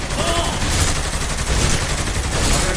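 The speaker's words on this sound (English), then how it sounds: "I'm trying to shoot him in the head." Rapid video-game gunfire rattles in dense, continuous bursts, loud and constant, with voices talking over it.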